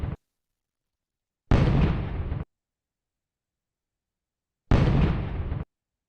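A Browning Auto-5 shotgun fires in the World of Guns game: two loud, booming blasts about three seconds apart, with the tail of another at the very start and silence between them.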